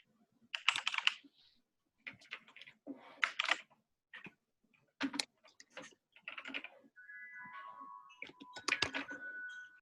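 Someone types JSON on a computer keyboard in irregular bursts of crisp keystrokes with short pauses between, close and clear in a quiet room.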